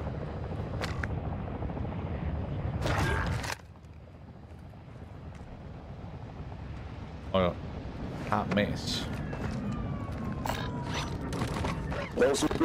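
A helicopter in the video game Call of Duty DMZ gives a steady, dense rotor and engine rumble through most of the stretch. It dips briefly near the middle, and players talk over it.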